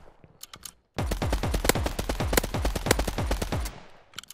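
Rapid gunfire in a Mini Royale battle royale game, a dense automatic burst of close, loud shots lasting about three seconds. Scattered fainter shots come before it and after.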